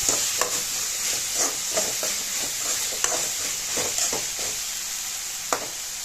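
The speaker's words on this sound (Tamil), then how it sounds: "இப்போது இதை எண்ணெயிலே ஒரு ரெண்டு நிமிஷத்துக்கு நல்லா பரட்டி விடலாம்" Dried fish (chennakunni) stir-fried in hot oil in a pan, a steady close sizzle with repeated scraping stirs and light clinks of a spatula running through the whole stretch, no voices.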